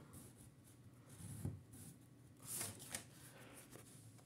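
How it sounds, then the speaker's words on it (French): A ruler is drawn along a paper fold to crease it while making a gift box, giving faint, close sliding and rubbing scrapes with a couple of soft taps over a quiet background. "on vient et on marque le pli jusqu'à la pointe"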